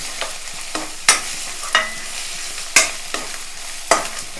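Chilli powder and garlic paste fry in a pan while a spoon stirs and scrapes, giving a handful of sharp, loud scrape strokes at irregular intervals over a faint, continuous sizzle, with no voices.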